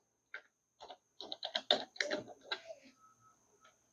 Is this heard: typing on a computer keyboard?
yes